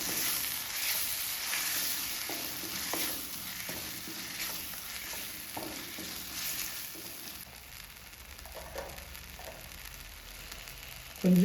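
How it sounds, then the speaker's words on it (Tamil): Ground masala paste fries in a pan of sautéed onions for a capsicum gravy, a continuous hissing sizzle with soft stirring scrapes and a louder burst right at the end. "இப்போ நம்ம அரைச்சி வச்ச மசாலா சேர்த்துக்கலாம்."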